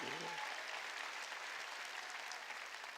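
A church congregation at a Korean sermon claps together, a faint, even wash of many hands heard from a distance, with a brief voice at the start.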